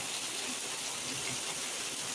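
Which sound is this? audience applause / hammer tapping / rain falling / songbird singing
rain falling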